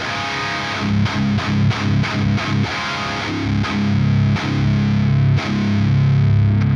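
Heavily distorted electric guitar through a Fractal AM4 with Horizon Precision Drive at a loose attack setting plays chugging, palm-muted metal riffs with short gaps between loud chords, then rings out on a sustained chord.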